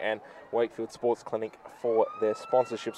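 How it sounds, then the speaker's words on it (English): A siren signals halftime at a women's Australian football match between Morphetteville Park and Port Adelaide in Adelaide, rising and then holding steady beneath a commentator's ongoing talk. "that was the siren that would probably normally indicate I should hand it back over"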